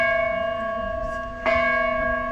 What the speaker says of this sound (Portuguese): O sino bate as horas